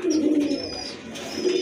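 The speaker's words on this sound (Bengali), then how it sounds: "এই যে দেখেন কবুতর জোড়া, আশা করি অল্প দিনের ভিতর ডিম দিয়ে দিবে" A pair of khaki pigeons, a red-eyed running pair, coo in low repeated throaty phrases, close by and fairly loud, with a faint chirp now and then and no talking.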